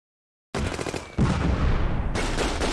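Gunfire rips out in the Close Combat war game as troops shoot at a mortar team: a burst starts abruptly after a short silence, then a louder, denser volley of rattling shots continues steadily to the end, close and without talk.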